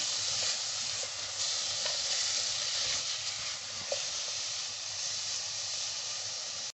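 Chopped nuts, coconut and bottle gourd fry for kheer in a pan, giving a steady broad hiss throughout. Faint stirring knocks sound now and then beneath it, and no one speaks.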